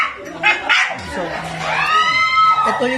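A dog yips and whines close by, with rising and falling vocal cries, while a person talks at the same time.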